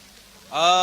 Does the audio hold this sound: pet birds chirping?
no